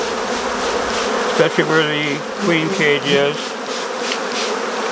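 An Africanized honeybee colony buzzes in a dense, continuous hum inside the hive near the queen cage, while someone talks over it.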